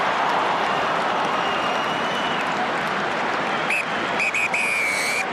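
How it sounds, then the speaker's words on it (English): A referee blows the half-time whistle at a Wales v South Africa rugby test in the Millennium Stadium, several sharp blasts that cut through the steady roar of the crowd. "Half-time whistle goes at the Millennium Stadium."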